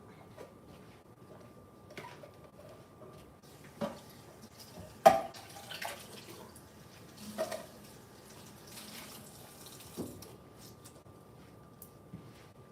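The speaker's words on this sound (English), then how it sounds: "Let me rinse this out." Juicer parts being rinsed under a running tap in a kitchen, with soft water splashing and occasional clatters and knocks of plastic pieces, close by and fairly quiet.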